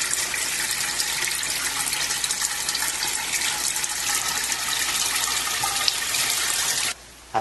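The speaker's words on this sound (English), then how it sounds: "After completely draining the fryer" Oil draining out of a commercial deep fryer, a steady gushing pour of liquid that runs continuously and close, then briefly stops near the end before resuming, with no talk.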